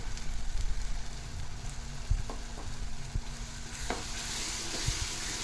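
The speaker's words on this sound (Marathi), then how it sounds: "आता हे दोन्ही वाटण आपल्याला चांगले परतून घ्यायचे आहेत" Onion and roasted gram paste frying in a pan for a hotel-style black-masala shev bhaji, a steady sizzle throughout with occasional scrapes and stirring clicks from a spoon, close by and with no talking.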